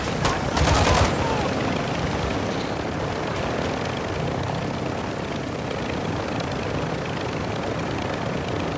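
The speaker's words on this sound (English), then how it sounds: "I'm in a helicopter that's not the same helicopter as the one I need." Helicopter flying in the video game Call of Duty Warzone 2.0 DMZ, a steady broadband rotor and engine roar that fills the whole stretch, with a brief burst of sharp crackling near the start.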